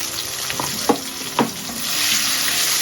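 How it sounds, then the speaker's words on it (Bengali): Tomatoes fry and are stirred in a pan, a steady close hiss of sizzling with a few scraping stirs of the spatula. "টমেটোগুলো দিয়ে ভালো করে নাড়াচাড়া করে নিন"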